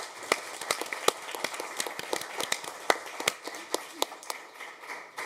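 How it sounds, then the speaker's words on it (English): Applause at a Kent city council meeting for a July employee of the month: many hands clapping in an irregular, sparse patter that carries on steadily, moderately close, with no voices over it. "Let's give a big round of applause to Julie Storms"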